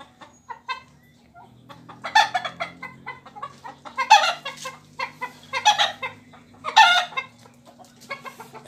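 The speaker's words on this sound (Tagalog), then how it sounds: "Ito palang itim na to mga idol, siya po yung nangingitlog dito." A black egg-laying hen clucks in a series of close, repeated bursts, with softer low farmyard background noise between the calls.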